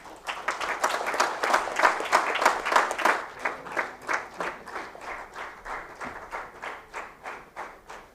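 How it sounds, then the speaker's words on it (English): A standing audience at a ceremony applauds: a loud, dense burst of many hands clapping that thins into slower, steadier rhythmic claps, with no talk over it. "I request the whole gathering to stand and give him a very big round of applause"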